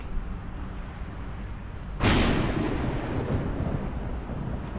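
Video game thunder: a sudden sharp crack breaks into a loud, rumbling roll that fades slowly over steady wind-like background noise.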